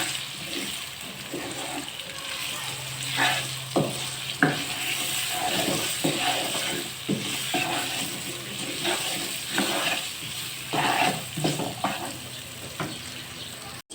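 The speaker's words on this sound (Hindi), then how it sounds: "मसाला और आलू फ्राई हो गए हैं।" Spices and potatoes sizzle steadily in a hot pan while a spoon stirs and scrapes at intervals, making sharp clicks over the constant frying hiss.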